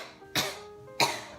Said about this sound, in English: The second cough, it's a surface cough, and it's probably the funniest one.